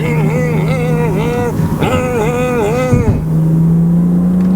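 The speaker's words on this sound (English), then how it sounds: "this thing is an absolute blast to drive" A BMW Z4 3.0si coupe driving, its engine droning steadily from inside the cabin with brief rising and falling revs between gear changes, loud and continuous.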